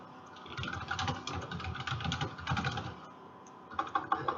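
Quick typing on a computer keyboard, bursts of close, crisp key clicks in irregular runs with a short pause before a final flurry, and no speech.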